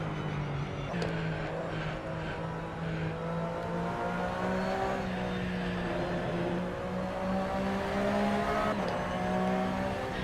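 Steady race car engine tone in a sim racing game, the pitch drifting and shifting as the car brakes and corners, with faint tire noise and no talking.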